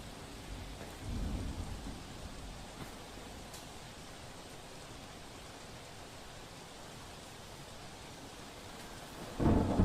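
Steady monsoon rain pours down on a waterlogged street in Surat in a continuous hiss, with low rumbles of thunder rolling in at the start and again near the end.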